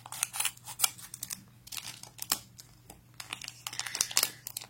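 A Molang McDonald's booster pack being opened: close, irregular bursts of crinkling plastic and sharp snipping or tearing, alone and fairly loud.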